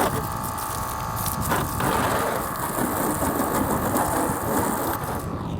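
A battery-powered all-in-one portable pressure washer, sold alongside a jump starter and air compressor, runs with a steady close motor whine and a spray hiss throughout, at an even level the whole time.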